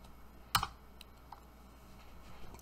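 Keys on a computer keyboard are pressed while a meeting password is entered, a couple of quiet, scattered taps with one sharper burst of clicks near the start and another at the end, heard alone in a quiet room.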